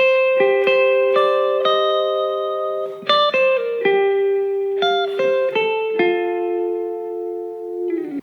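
An electric guitar with effects picks a melodic phrase from triad chord tones, root, fifth and major third, as clear sustained single notes in a moderate rhythm, ringing out at the end.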